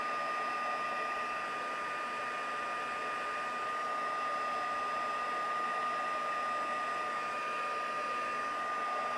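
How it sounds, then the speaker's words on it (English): A craft heat tool blows hot air in a steady, unbroken whoosh, close and loud from start to finish with no talk over it. "You want to make sure that your heat tool does heat up"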